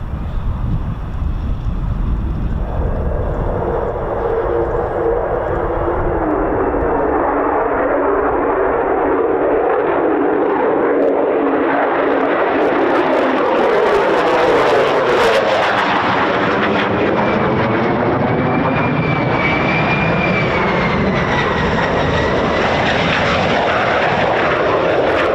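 A pair of fighter jets, F-15s or F-35s of the 48th Fighter Wing, roar past together at RAF Lakenheath, a loud sustained jet rumble that swells, peaks with a sweeping pitch shift overhead and then recedes over about twenty-five seconds.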